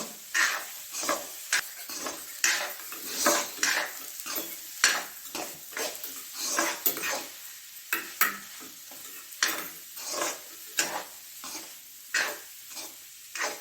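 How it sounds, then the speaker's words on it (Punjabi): Boiled potatoes are mashed in a pan for aloo matar gobhi tikki, with repeated scraping and pressing strokes at an irregular rhythm, fairly close and moderately loud, with a faint sizzle underneath and no talking. "ਆਲੂਆਂ ਨੂੰ ਚੰਗੀ ਤਰ੍ਹਾਂ ਮੈਸ਼ ਕਰ ਦੇਵਾਂਗੇ"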